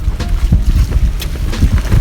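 Strong coastal wind in Bohol, Philippines buffets the microphone in loud, gusty low rumbles that rise and fall continuously, with no voices.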